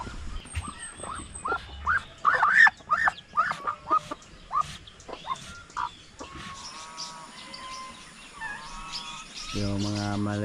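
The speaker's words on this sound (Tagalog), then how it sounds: "naghalo yung pato at saka manok" Ducks quack and chickens cluck in a burst of mixed farmyard calls nearby, followed by a quieter stretch of background chatter and a low buzzing tone.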